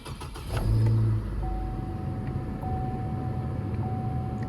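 A 2010 GMC Canyon SLE crew cab pickup engine cranks and catches around the one-second mark, then settles into a steady low idle with a faint whine running over it.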